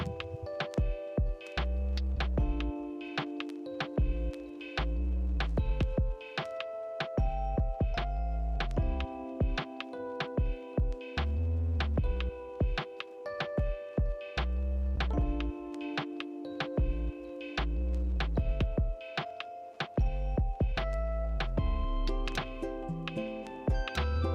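A sewing machine stitching a neck band onto a three-piece dress, heard as repeated bursts of rapid mechanical stitching with a humming motor, stopping and restarting in short runs with brief pauses between them.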